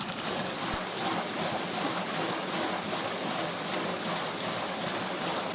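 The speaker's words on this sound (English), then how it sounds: "A complex, highly effective irrigation system carries water from the mountain stream" Water rushes steadily in a mountain stream feeding a field irrigation system in Bali, a broad, even hiss of flowing water that stays constant throughout, with no voices.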